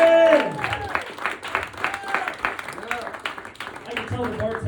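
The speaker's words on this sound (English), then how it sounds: "Give me some round of applause, man, real quick." A comedy club audience breaks into applause and cheering after a voice shouts over the crowd; the clapping rolls on steadily at full volume with scattered whoops.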